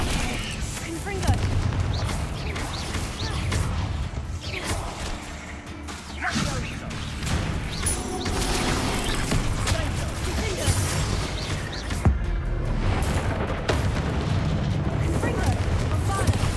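Fire and blasting spells such as Confringo and Bombarda erupt over and over in the Hogwarts Legacy video game, making dense booms, crashes and whooshes almost nonstop while a voice calls out between the bursts.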